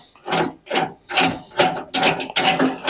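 A nut runner drives a bolt home on a classic Mini fuel tank, six close, loud ratcheting bursts in an even rhythm with short gaps between them.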